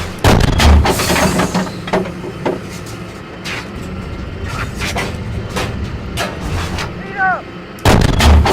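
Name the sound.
artillery fire in the video game Steel Beasts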